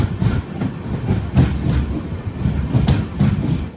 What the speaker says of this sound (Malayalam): 4:30 ട്രെയിൻ ഇപ്പോൾ രാമനാഥപുരം റെയിൽവേ സ്റ്റേഷനിലേക്ക് ഇതാ എത്തുകയാണ്